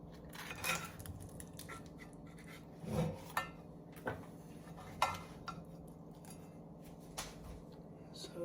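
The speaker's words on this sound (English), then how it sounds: "get the biggest spatula that you could find to try to slip under there" A large spatula working under a tortilla pizza in a hot cast iron pan, giving scattered metallic scrapes and clinks with pauses between, fairly quiet over a low steady hum, with occasional faint voice.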